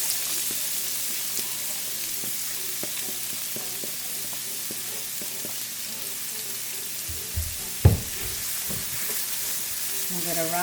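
Chopped onion sizzles steadily in about a tablespoon and a half of hot oil in a pan, a continuous frying hiss with a brief clunk of a utensil near the end; no speech.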